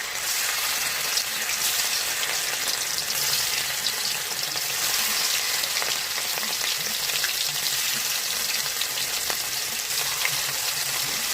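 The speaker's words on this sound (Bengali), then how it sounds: "তেলটা দেখো গরম হয়ে গেছে। এখন আমি একটা একটা করে চিংড়ি মাছ ছেড়ে দেবো।" Prawns fry in hot oil, dropped in one at a time, giving a steady, close sizzle with faint crackles and no talking.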